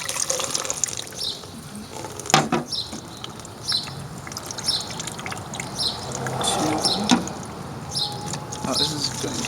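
Hydrogen peroxide pours and splashes into a container for a catalytic decomposition experiment, a close, uneven liquid trickle with intermittent splashes and small knocks.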